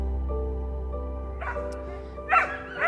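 Dog in distress, one of several injured dogs with infected open wounds, giving short yips and whimpering barks near the end, close by over a low steady background hum.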